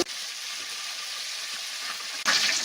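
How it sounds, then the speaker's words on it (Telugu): Curry leaves hit hot oil in a large wok-style pan, giving a continuous crackling sizzle that swells suddenly louder near the end, with no voices. "ఆయిల్ బాగా వేడిన తర్వాత కరేపాకు వేసుకోవాలి"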